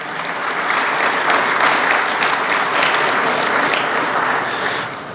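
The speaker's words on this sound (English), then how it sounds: "Thank you. Applause, please." An audience at an evening event honoring Roberto Alomar breaks into applause, a dense, even burst of clapping that swells quickly, holds steady and fades out after about five seconds.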